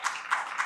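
A few people clap in short bursts at a corporate address, three soft rounds of hand claps close together, fairly quiet with no talking over them.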